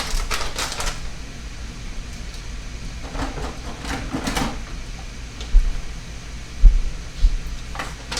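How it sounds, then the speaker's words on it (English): Scissors snipping open a plastic shrimp noodle packet, a few quick close crisp cuts in a cluster followed by soft rustling and handling noises, no talk. "I'll have to use the scissors."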